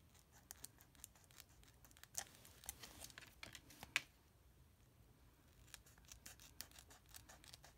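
Quiet snipping and crisp paper cuts, a scattered series of sharp little clicks with a few louder snips, close by and without talk.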